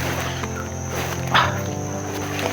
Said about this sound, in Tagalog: yan yung narinig nyo kako ng mga aso